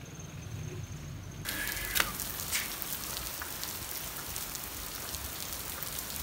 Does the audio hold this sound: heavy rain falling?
yes